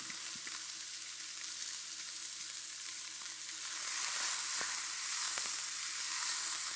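Chopped carrot, celery, onion, garlic and rosemary sweat in a hot pan, a steady soft sizzle and crackle that grows louder and brighter partway through, with no talking.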